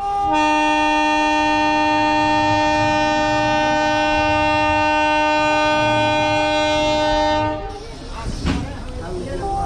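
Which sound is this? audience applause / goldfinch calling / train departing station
train departing station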